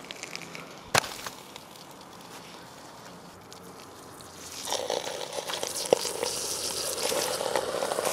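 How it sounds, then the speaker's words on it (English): A drill sizzles and crackles inside a microwave oven, a quiet hum with a sharp pop early on, then a louder, dense crackling hiss building in the second half. "Something sizzling in there."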